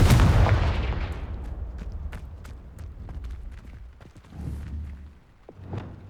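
A blasting spell goes off in the Hogwarts video game: one loud burst at the start trails off into rumbling debris, followed by scattered clicks and a couple of softer swells.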